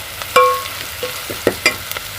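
Green chillies sizzling in a hot pan while a spatula stirs them, sharp scraping strokes and crackles popping irregularly over a soft frying hiss, close and loud with no talking.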